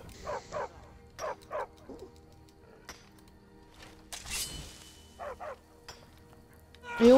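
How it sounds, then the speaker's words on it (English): A dog barks in Skyrim, a series of short paired yips and barks spread across a quiet background, fairly close and clear, with a whining note at the end. "Did I just hear a dog?"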